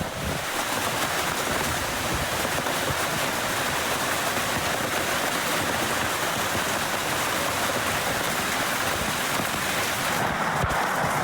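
A hailstorm at a house with pouring rain: a dense, continuous hiss and patter of hail and rain hitting surfaces, loud and unbroken, with no talking and no distinct thunderclap standing out.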